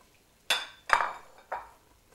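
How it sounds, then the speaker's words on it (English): A utensil scrapes and knocks against a pot of salmon corn chowder, three separate clinking strokes in close succession, near and fairly quiet, with no talk. "I'm going to stir this around really good to break up the pieces of the salmon"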